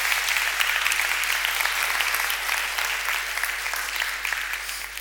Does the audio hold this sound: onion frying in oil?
no